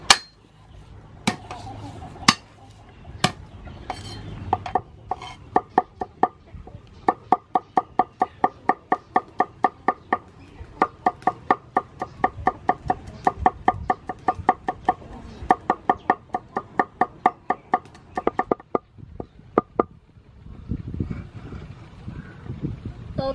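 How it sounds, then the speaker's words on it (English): Garlic chopped with a knife on a cutting board, a long run of sharp, evenly spaced close-up knocks with brief pauses, fading into softer rustling near the end. "Chop garlic."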